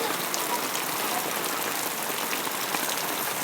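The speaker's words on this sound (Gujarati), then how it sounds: "જો કેટલો સરસ મજાનો વરસાદ વરસે છે" Heavy rain pours down on open farm fields and a mango orchard, a dense, steady hiss of drops on leaves and ground with no break and no voices.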